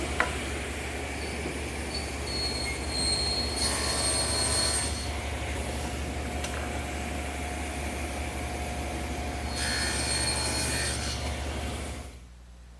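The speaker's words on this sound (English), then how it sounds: "now I'll make the shoulder cut on each end of all the rails" A table saw with the blade raised to 3/16 inch cuts tenon shoulders across the ends of wooden table rails, a steady loud motor whine with two brighter bursts as the blade passes through the wood, then winding down at the end.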